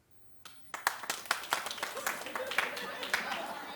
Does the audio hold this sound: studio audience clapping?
yes